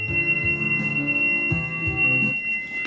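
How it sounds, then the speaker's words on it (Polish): A healing tuning fork, the highest-tuned of the set, rings with a thin, piercing sustained tone that hangs steadily above low, shifting musical drones. "to jest właśnie ten nasz najwyżej nastrojony kamerton"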